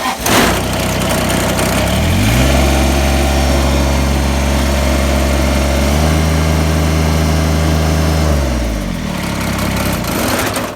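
Kubota BX2370 compact tractor engine running through a throttle test, a loud, steady close-up drone that rises in pitch as the throttle opens, holds, shifts again midway, then settles back down.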